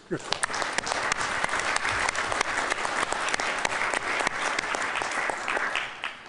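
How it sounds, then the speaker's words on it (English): A policy board meeting audience gives a round of applause, steady and fairly distant, lasting the whole stretch. "So if we can please give Tom a round of applause in absentia here."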